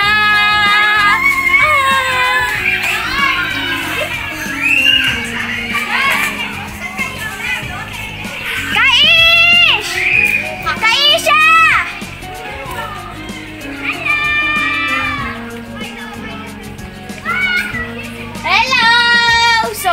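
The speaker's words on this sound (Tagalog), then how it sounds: "maingay dito kasi meron mga bata" Children play and chatter noisily on a home terrace, their high-pitched voices shouting and laughing in continuous, overlapping bursts close by.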